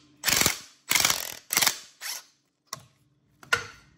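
A ratchet wrench loosens the U-bolt nuts while a lift kit goes onto a Club Car DS golf cart: several loud, close bursts of rapid clicking, then shorter, fainter clicks with pauses between strokes.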